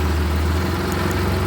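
A 2004 Maruti Suzuki Alto LX petrol engine idling in good condition, a steady, even, close hum with no revving and no voices.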